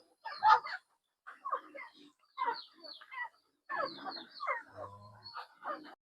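Native chickens and two mixed Rhode Island chickens clucking in short, scattered bursts in a muddy yard, fairly close, with quiet gaps between calls.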